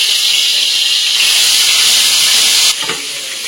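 Hot oil hisses loudly in a pan as pieces cut for biryani go in, a steady bright sizzle that suddenly drops in level near the end.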